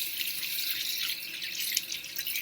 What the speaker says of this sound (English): I'm going to give my hands a little rinse because they look very mushy.